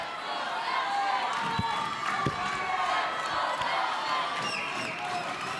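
Spectators fill a high school wrestling gym with steady, loud crowd noise of shouting and cheering, a vocal crowd near the mat late in a close bout, with a few thuds and slaps on the mat underneath.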